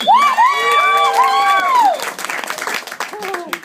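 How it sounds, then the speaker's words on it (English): An audience at a 60th birthday roast cheers and whoops loudly for a newly engaged couple, voices rising over the crowd before steady, dense applause takes over and carries on to the end. "how about a big round of applause for our newly engaged couple, Kevin and Rachel"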